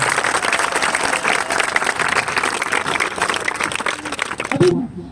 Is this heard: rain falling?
no